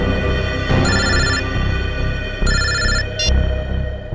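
A telephone rings in two electronic bursts separated by a pause, loud and close, with a short third chirp at the end, in a crime drama scene.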